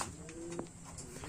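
A racing pigeon coos once, a short low call standing out against a steady background of other birds and ambient noise in a loft.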